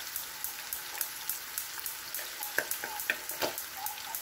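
Tilapia cooking in a pan as coconut milk goes in, giving a soft, crackling sizzle with scattered pops and light stirring taps, fairly quiet throughout.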